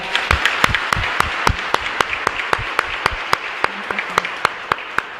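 A Mass congregation at Capilla Rosa Mística in Mariano Roque Alonso claps for Father Víctor Cabañas, the steady claps falling in an even, almost unison rhythm that stays moderately loud throughout.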